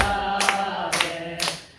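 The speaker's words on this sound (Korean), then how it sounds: "박수 치면서 한번 할까요?" Three evenly spaced rounds of hand clapping by a church congregation, each a short sharp burst over a droning sustained background of voices or music.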